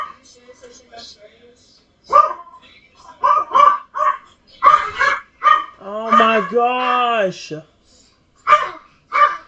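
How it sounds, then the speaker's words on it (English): A dog barks and yips in short, loud bursts close by, mixed in with someone talking. "I'm sorry about the rude dog"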